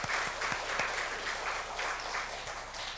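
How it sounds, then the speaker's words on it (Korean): Church congregation claps in praise to God during a sermon, a moderate wash of applause with several sharper claps standing out near the start, heard from some distance. "우리 하나님께 영광의 박수를"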